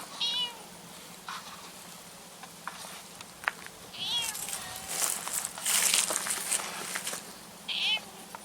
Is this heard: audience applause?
no